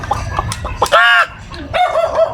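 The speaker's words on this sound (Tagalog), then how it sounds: "Ayun ang manok." A chicken gives loud, close clucks and one strained squawking call in a rural province, with other barnyard noise and brief voices around it.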